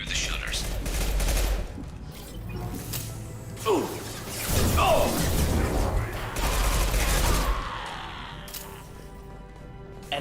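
Gunfire from the Mass Effect 2 video game crackles in sustained bursts over a steady mechanical rumble, with sharper sweeping effects in the middle and a loud, dense mix throughout.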